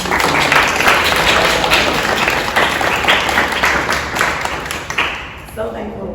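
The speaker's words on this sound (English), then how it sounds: "let's just give a round of applause" A crowd at a gallery artist talk applauds with dense, sustained clapping that swells and then thins out toward the end.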